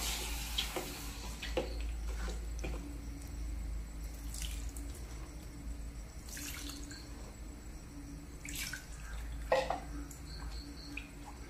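Water and milk poured into a cooking pot for a fish dish, a steady faint pouring trickle mixed with light clinks and taps of utensils, with a constant low hum underneath.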